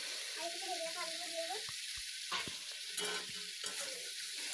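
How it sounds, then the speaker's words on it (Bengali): Chicken pieces, with juices released into the pan, are stir-fried for a village-style chicken curry, with a steady sizzle and scraping of a spatula against the pan, and a voice speaking over the start. "দিয়ে আবারও মাংসটাকে কিছু সময় কষিয়ে নেব"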